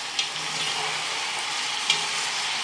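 Ingredients for chicken soup sauté in a pot with a continuous bright sizzle and a couple of sharp stirring clicks, close and steady, no voices.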